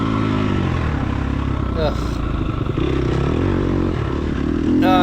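A dirt bike engine revs and bogs while riding through loose, off-camber sand on a ranch trail, with a rider grunting and speaking over the steady motor and brief clattering.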